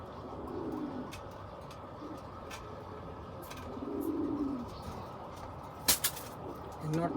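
Two domestic pigeons, a paired male and female kept at home for breeding, cooing in low rolling bursts at moderate distance, with faint voices and light household background noise around them.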